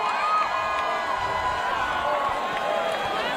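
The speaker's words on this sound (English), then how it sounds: "And fans are starting to cheer." Auburn basketball fans welcoming the team home after it reached the Final Four, with buses rolling in: a busy crowd of cheers, whoops and shouts at close range, with a whistle-like tone rising over the din.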